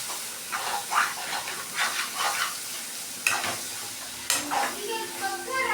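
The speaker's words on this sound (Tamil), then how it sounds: "போட்டு நம்ம அப்படியே கிளறிட்டே இருக்க வேண்டியதான்" Food sizzles in a pan while being stirred, with soft scraping strokes rising and falling over a quiet hiss and two sharper clanks near the end.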